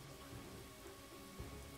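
Steady rain in the video game Pathfinder: Wrath of the Righteous hisses as an even, dense wash of patter with no pauses.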